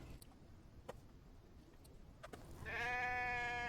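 A single loud, wavering sheep bleat bursts in near the end after quiet ticking and background hum, with a synthetic, game-like quality.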